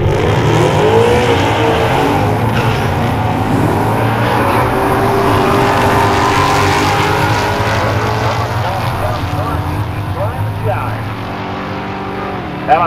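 A 2012 Ford Mustang Boss 302 and a 2011 Mustang GT run a drag race, with loud, sustained, rising engine roar and shifting tones close by, and an announcer speaking over it throughout.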